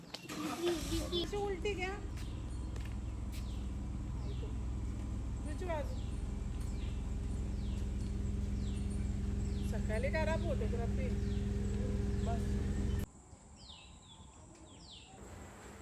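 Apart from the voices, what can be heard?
birds calling at a farmhouse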